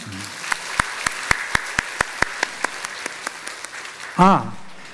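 A church congregation at a Sunday service claps in slow, even unison, about a dozen distinct claps that gradually soften. A voice speaks briefly just after the claps stop.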